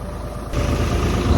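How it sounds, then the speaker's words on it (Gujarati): A Blue Horse 63 tractor engine runs with a steady low diesel chug near the microphone, growing a little louder and heavier partway through. "દાદા આપણું ટ્રેક્ટર લટર પટર માંડવી જાય લટર પટર"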